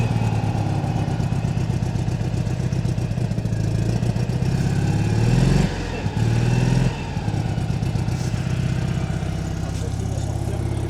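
An old car's engine runs at a close, steady, chugging idle with a brief dip in the middle, and voices talk faintly underneath.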